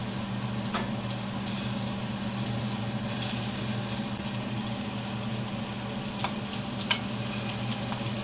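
Meatballs for spaghetti browning in a frying pan give a steady, close sizzle with faint crackles and a few sharp spatters, heard alone without talk.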